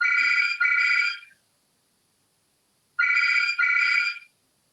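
A telephone rings in a quiet room, two bursts of a double trill, each pair separated by silence, loud and close.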